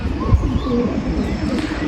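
Pigeons cooing near a house roof, soft low coos standing out briefly over a murmur of background noise and faint voices.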